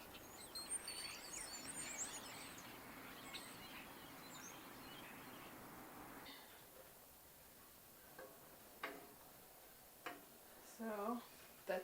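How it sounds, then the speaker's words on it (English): Small birds chirp and tweet outdoors in short, scattered calls, faint and distant in the first half, with a few isolated chirps later over quiet room tone. "You hear the birds outside?"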